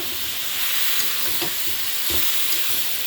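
Mixed vegetables with sugar are sautéed in a pan, giving a loud, steady sizzle up close with a few soft stirring scrapes and no talking.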